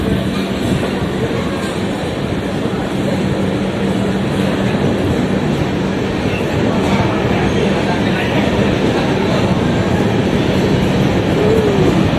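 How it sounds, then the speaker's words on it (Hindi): Rajdhani Express train on the Mumbai–Delhi route running just after leaving Jalgaon, a steady loud rumble with wheel clatter heard from inside the coach, continuous and close. "तो चलो अभी डिपार्ट हो चुकी है ट्रेन जलगांव से"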